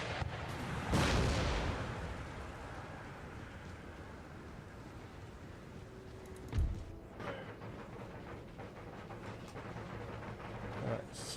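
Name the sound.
cannon fire in Empire: Total War video game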